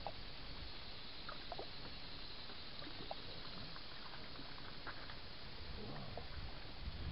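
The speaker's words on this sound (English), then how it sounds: "The waves seem to be getting bigger and" Steady wash of waves slapping and churning around a small fishing boat on a creek, continuous and fairly loud with gusty background noise, no talking.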